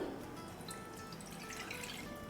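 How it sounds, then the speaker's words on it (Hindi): A quarter cup of water poured into a wok on a lit stove to start sugar syrup for motichoor ladoo, a steady close trickling splash. "इसमें डालते हैं 1/4 कप पानी"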